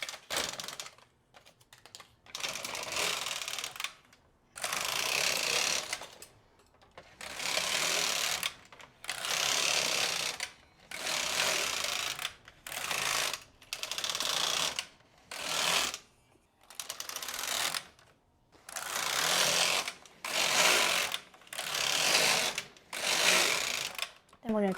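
A knitting machine works collar ribbing rows at tension dial 4.5 for a cat sweater, the carriage sliding back and forth in repeated rattling, clattering sweeps about a second or two long, each followed by a brief pause, close and steady.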